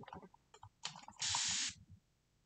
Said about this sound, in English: So it's a very fine mist.